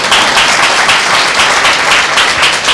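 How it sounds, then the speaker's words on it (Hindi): A church congregation applauds during a Tuesday meeting, a loud, dense burst of clapping from many hands that holds steady for a few seconds without a break. "क्या जोरदार ताली यीशु मसीह को दे।"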